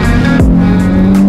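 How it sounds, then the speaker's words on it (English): A Nissan 350Z GT edition drives on the road, its engine droning loudly and steadily up close, with a brief drop in pitch midway like a gear change, and no voices. "Nissan 350Z GT edition."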